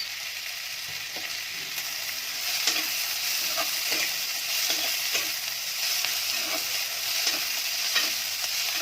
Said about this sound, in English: Cook it till the onion is fried and changes color